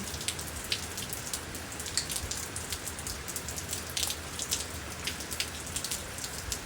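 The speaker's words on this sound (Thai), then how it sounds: "ฝนตกหนักๆก็ ตื่นเต้นนะทุกคน" Heavy rain pours steadily onto hard surfaces at night in Auckland, with dense drops pattering close by and no voices.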